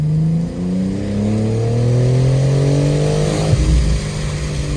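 A 2024 BMW M4 sports car accelerates hard nearby, its engine note climbing steadily through the revs with a brief shift-like dip near the end before settling, loud and continuous with no talking.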